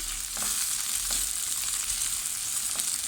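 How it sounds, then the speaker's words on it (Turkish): Tomato and pepper paste sautéing in oil for a broad bean dish, a steady close sizzle with faint stirring scrapes throughout, no voices. "Salçalarımızı da soteliyoruz. Yağla birlikte."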